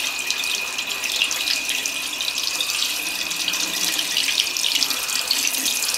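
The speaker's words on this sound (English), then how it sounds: "So I'm literally forcing water through it, and not at it, not just at it." Water forced through the felt waste ink absorbing pads of an Epson 1400 inkjet printer during cleaning, a steady close hiss and gush of running water alone, continuous throughout with no voices.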